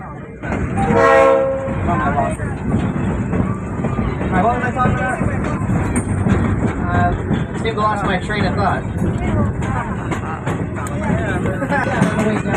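A train horn blasts repeatedly at four street crossings in short succession over the steady rumble and clatter of a moving train along an American beach, with voices talking nearby throughout.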